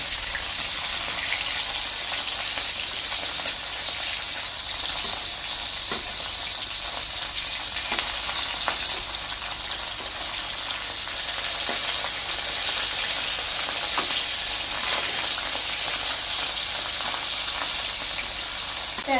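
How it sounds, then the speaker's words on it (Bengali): Chapila river fish frying in hot oil after being flipped, a constant close sizzle and hiss with faint pops and occasional stirring clicks, steady in volume for the whole stretch. "এপাশটাও ভেজে নেব।"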